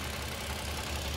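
A Toyota Avalon/Camry six-cylinder engine with a random misfire and six new injectors idles steadily at close range, a low, even rumble with no other sounds.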